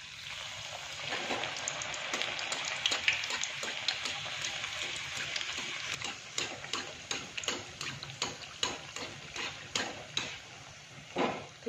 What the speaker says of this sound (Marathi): छान अशी लो टू मीडियम गॅसवरती आपल्याला ही पुरी भाजून घ्यायची आहे